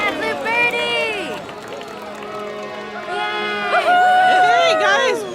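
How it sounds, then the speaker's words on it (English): A crowd, largely high young voices, cheers and shouts in overlapping rising and falling whoops, loud and close, swelling again toward the end with a voice speaking among them. "I know that cheer wasn't meant for me, was it?"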